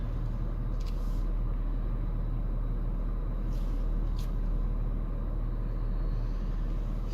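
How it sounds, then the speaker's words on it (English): Road traffic passes by as a steady, close, broadband rumble of vehicles, with faint hissing swells from individual cars and no voices. "I have to let the traffic pass"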